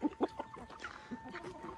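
Roosters and chickens, including Sussex hens, in a backyard coop, giving a few short clucks and squawks at close range over a faint steady background hum.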